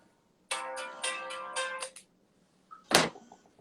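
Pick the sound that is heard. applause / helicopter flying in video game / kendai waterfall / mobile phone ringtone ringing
mobile phone ringtone ringing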